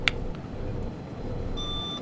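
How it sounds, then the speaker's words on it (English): Warning beep in a train simulator game: a steady electronic tone sounds over low rumble, joined late by a sharper clipped blip, repeating as a persistent alert. "that looks like a warning, which means I think that's going to go beep"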